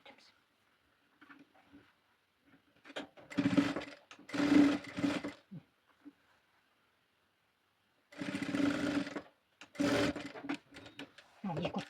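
A sewing machine stitches a flamingo-shaped fabric toy in two clusters of short, rapid whirring bursts separated by quiet pauses, with light handling noises and a voice in between.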